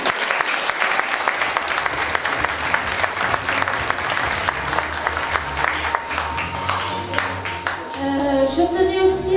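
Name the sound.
audience applause at school show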